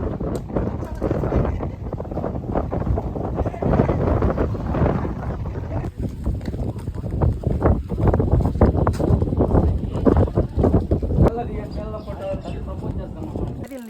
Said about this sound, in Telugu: మనం వస్తున్నామని గాలి ఎఫెక్ట్సా?